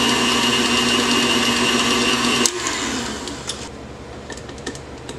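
A motorized mixer whirs steadily while blending mossy green mica into an herb-garden-scented batch, then cuts out abruptly, leaving a quieter stretch with scattered small clicks and taps.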